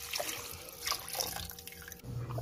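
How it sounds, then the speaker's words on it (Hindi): Water poured into a cooking pot for chicken yakhni, a liter added to salt and green chilies, giving a close, steady splashing pour with drippy trickles that shifts to a deeper filling sound near the end. "अब हम इसमें 1 लीटर पानी ऐड करेंगे"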